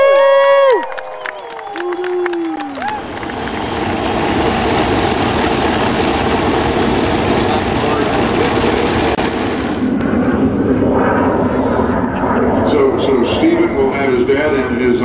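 Voodoo, the race number 5 unlimited racing plane at the 2009 Reno air races, roars past loud and sustained for several seconds, then fades away beneath a crowd and a talking announcer.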